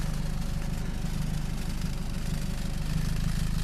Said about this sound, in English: This is my exhaust pipe, and this is exhaust